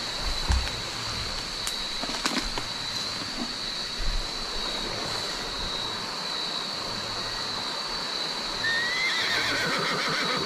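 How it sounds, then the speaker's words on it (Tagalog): A horse whinnies at night in a forest near clumps of bamboo. The neighs are faint and distant, set against a steady high insect drone, with a thin rising call near the end. "parang nandyan yung kabayo bro"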